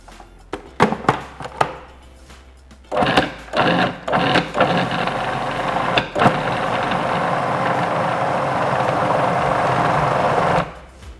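A food processor mixes pastry dough with an egg, starting with several short pulses and bumps, then running in a long, loud, steady whirring burst before cutting off abruptly.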